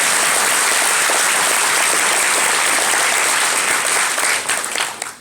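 Loud, dense applause from an audience at the Rezzed indie games competition, a close wall of clapping that holds steady and then tapers off in the final second.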